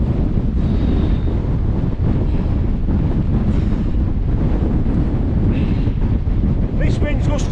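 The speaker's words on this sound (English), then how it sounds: "This wind's gusting up to 40 mile an hour now." Gale-force wind roars nonstop across a Scottish mountain summit, buffeting the microphone in a loud, unbroken rush with heavy low rumble and no let-up across the whole stretch.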